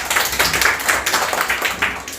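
Young children in a kindergarten classroom clap together for a classmate, a brisk, steady patter of many small hands filling the room without voices.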